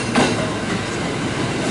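A train pulls in at a station platform, its wheels clattering steadily and a brief squeal of rails near the start, loud and close with no voices.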